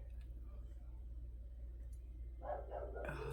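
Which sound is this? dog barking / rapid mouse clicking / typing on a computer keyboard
dog barking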